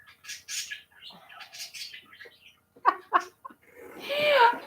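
Pet birds squawk and chirp while bathing in water dishes inside a cage, short harsh calls scattered throughout with a longer chattering burst at the end; a voice is faintly present.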